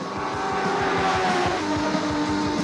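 A 1000 Yamaha racing motorcycle in a WERA 4-hour national endurance race at No Problem Raceway screams past at full throttle on the front straight. The engine note is loud, close and continuous, with rapid pulsing harmonics, and nobody speaks.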